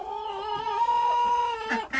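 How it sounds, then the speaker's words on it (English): A hen wandering loose outdoors gives a drawn-out, wavering cluck-like call, close and fairly clear, ending with a couple of short sharper notes. "This is the chicken that got to stay out."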